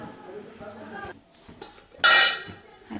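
A metal lid clanks down onto a cooking pot of dried shrimp curry, a single bright ringing clink after soft kitchen clatter and talk in the background.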